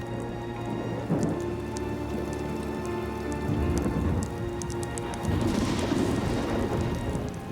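Steady heavy rain from a storm pours down, a dense hiss of drops drumming on surfaces with no voices, holding at an even, strong level throughout.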